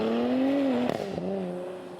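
A 2023 Nissan Z with automatic exhaust and Pride Auto downpipes drones with a steady, throaty tone, then briefly blips and settles into a lower note, heard close and moderately loud.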